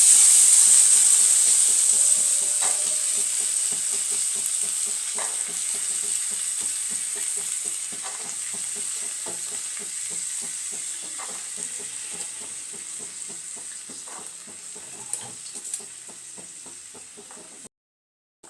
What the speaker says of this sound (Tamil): இப்போ பீன்ஸு கேரட்டு போட்டாச்சு. இப்போ அது நல்லா அந்த ஆயிலே வதக்கணும்.